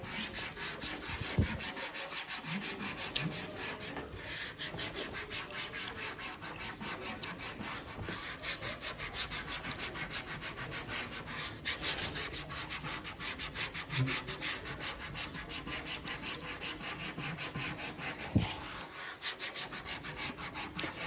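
Steady back-and-forth rubbing as a hand presses rail tape onto the rail of a SUP board, a continuous close scuffing friction that carries on without pause and without speech.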